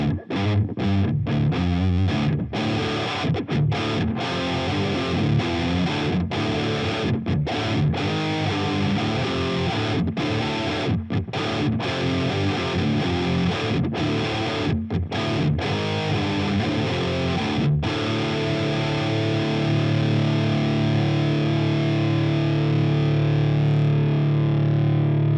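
An aggressive, heavily distorted electric guitar played through a POD HD/Helix modeller with no compression, chugging palm-muted riffs with sharp stops, then sustained ringing chords, loud and continuous.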